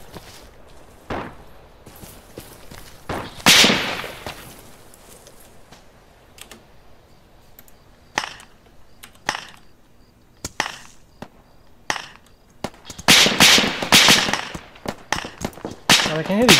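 Mortar rounds landing in Arma 3 on Stratis sound as scattered sharp blasts and heavier bursting impacts, irregularly spaced among quieter crackling gunfire.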